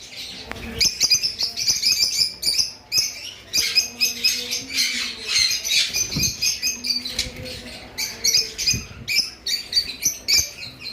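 Caged pet lovebirds, including Fischer's lovebirds, give dense, overlapping high chirps and tweets in a steady chorus, with occasional wing flaps and small cage rattles close by.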